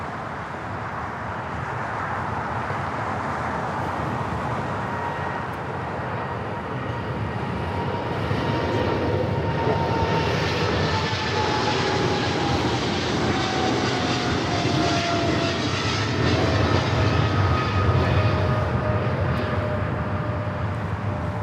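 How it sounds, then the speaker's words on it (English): A Boeing 777 freighter operated by Polar Air Cargo for DHL takes off on runway 25 left at LAX, a loud roaring jet engine rumble that swells and holds, with a whining tone sliding downward as it passes. "If you like a nice and loud 777 rolling down to 25 left."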